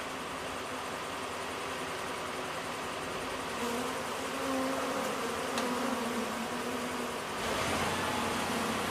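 A bewildered honeybee colony buzzes steadily throughout, a dense continuous drone that swells slightly louder in the second half, with no talking.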